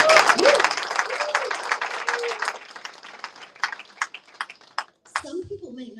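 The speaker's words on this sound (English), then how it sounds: "Lisa, you can clap if you want." An audience claps and cheers at a human services career program graduation ceremony, with loud, steady applause close by that thins out into scattered claps, and voices rising over it near the end.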